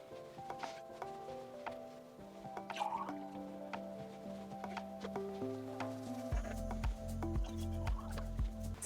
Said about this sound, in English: let's refill some of our water globes so that we can water our moss poles too